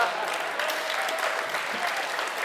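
An audience applauds in a hall: continuous, dense clapping from many hands, loud and steady throughout without a break, with faint crowd murmur mixed in.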